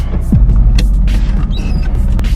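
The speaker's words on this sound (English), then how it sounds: "Got that squeaky clutch pedal." A squeaky clutch pedal in a 2015 Honda Civic Si, giving short creaks and squeaks over a low rumble inside the car, close and fairly loud.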